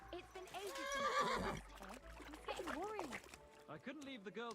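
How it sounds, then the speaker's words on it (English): A horse in the video game Kingdom Come: Deliverance II whinnies with rising and falling cries, along with snorts, while someone talks over it. "Well, there's my horse."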